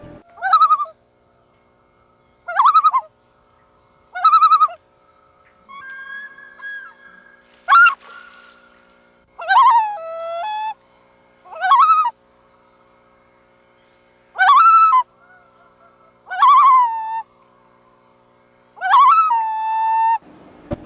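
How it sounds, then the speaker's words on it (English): Common loon calling, a series of rising, wavering wails and yodel-like notes repeated about ten times with quiet gaps between, clear and resonant against a still, silent background. "Here is a picture of and the sound of a loon."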